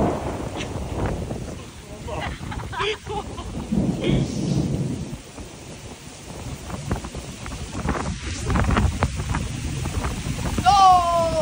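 A severe thunderstorm pounds down heavy rain while out fishing, with a loud continuous wash of rain and gusting wind and rolling thunder swelling at intervals, close and enveloping.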